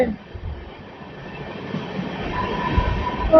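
The Satavahana Superfast Express with new LHB coaches running at around seventy to eighty, heard as a steady, fairly soft rolling rumble with faint wheel clatter and a brief squeal that builds slightly toward the end.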